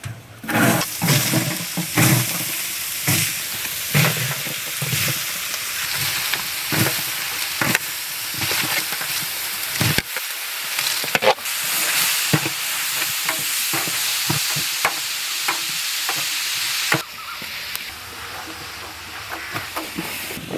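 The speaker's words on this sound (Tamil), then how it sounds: "வதக்கி எடுத்த வெங்காயத்தையும் சுக்காவுக்கு அவிச்சு எடுத்த இறைச்சியும் சேர்த்து பிரட்டி எடுப்போம்" Boiled mutton and sautéed onions are stir-fried together in a pan for a Chettinad mutton chukka, giving steady loud sizzling with repeated scraping and clattering stirs, and one sudden drop near the middle before the frying picks up again.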